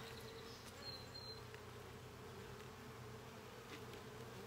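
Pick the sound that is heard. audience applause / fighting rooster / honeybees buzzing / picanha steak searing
honeybees buzzing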